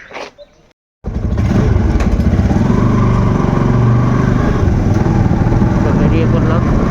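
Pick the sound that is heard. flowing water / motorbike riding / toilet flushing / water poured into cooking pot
motorbike riding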